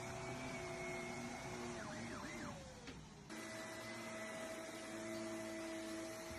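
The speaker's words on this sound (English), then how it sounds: "I found a pig that really hates vacuum noise." A vacuum cleaner drones steadily with a whining tone, briefly dipping and warbling midway before resuming its constant hum.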